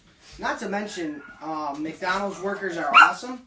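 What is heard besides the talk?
dachshund (wiener dog) whimpering and barking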